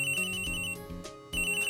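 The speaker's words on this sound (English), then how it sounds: "It's your phone." Phone ringing in the video game Phoenix Wright: Ace Attorney, a bright electronic ringtone in repeating bursts with a short gap before it starts again, heard alone without talk.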